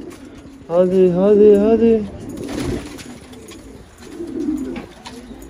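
Pigeons of assorted colours coo close by in a rooftop coop, one clear rolling coo standing out above softer calls, while someone talks briefly in Turkish.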